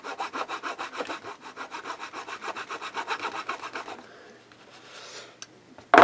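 Rapid back-and-forth sawing strokes, about twenty in quick even rhythm, cutting pieces for a model grain elevator kitbash, close and clear, then stopping into quiet handling noises.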